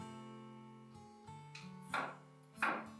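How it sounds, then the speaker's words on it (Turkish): A knife chops potatoes roughly into large chunks, with two sharp cutting thuds landing about half a second apart over a steady humming background tone. "Patateslerimi gelişi güzel iri iri doğruyorum."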